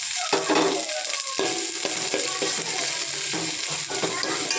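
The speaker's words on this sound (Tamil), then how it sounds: "இப்போ இது கூட குடமிளகாவையும் வெட்டி வச்ச வெங்காயத்தையும் சேர்த்துப்போம்." Capsicum and onion sautéing in a pan for fried rice, a steady sizzle broken by repeated scraping stirs of a spatula, close and fairly loud with no talking.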